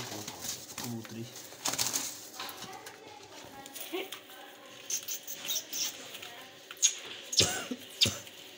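Laka fancy pigeons coo softly close by, with scattered flutters and shuffling, while someone talks over them.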